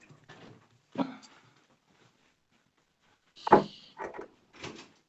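A door is handled in a quiet room, with a few separate soft knocks and clunks, then a louder clatter and rattle followed by two smaller bumps, close and otherwise silent.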